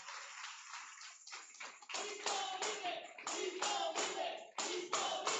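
A church congregation claps together in steady rhythmic applause as an offering, starting softer and growing denser and louder partway through, heard at a moderate distance.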